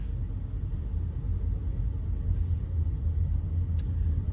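A VW Polo GT 1.0 TSI with an automatic torque converter gearbox pulls away, heard from inside as a steady low engine and road rumble that builds slightly as it moves off.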